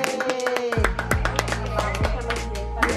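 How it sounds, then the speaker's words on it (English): Small audience claps at a class moving-up graduation, a sparse run of handclaps and taps close by, mixed with other voices and background sound. "All given a round of applause."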